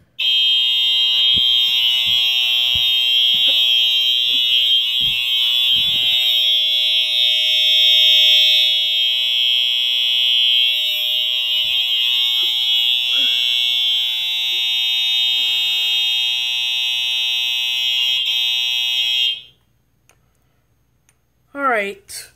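Fire alarm system sounding during an audible silence test: a loud, continuous high-pitched electronic tone with clicking, stopping abruptly near the end, then quiet with a brief knock.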